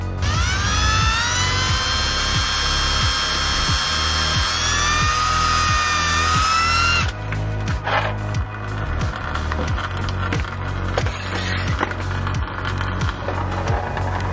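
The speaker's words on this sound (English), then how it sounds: "marking and drilling the gas tank" A power drill with a 37/64 bit bores into a car's metal gas tank during an auxiliary fuel system install, a loud whining drone for about seven seconds, then the motor spins down into scattered clatter and knocks.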